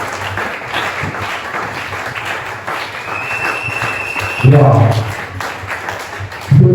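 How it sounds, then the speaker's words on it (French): A church congregation at a French-language crossover worship service for 2025-2026 bursts into broad applause and cheering, a dense wash of clapping that swells near the end, with a voice speaking over it. "Acclamons bien la parole de Dieu."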